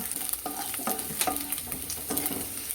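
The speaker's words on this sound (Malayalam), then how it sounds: "വെളുത്തുള്ളി ഇട്ട് കൊടുക്കാം, ഇഞ്ചി ഇട്ട് കൊടുക്കാം, നന്നായി വഴറ്റിയെടുക്കുക കേട്ടോ." Garlic and ginger sautéing in a hot pan for a Kerala-style mango rice, a steady oily sizzle broken by repeated scraping stirs of a spoon, close and alone with no talk.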